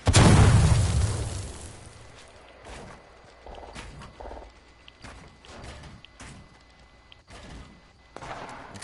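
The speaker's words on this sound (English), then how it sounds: "Watch out for the egg launcher." A loud blast from an egg launcher in Fortnite bursts at the start and fades, followed by scattered thumps, pops and clicks at lower volume.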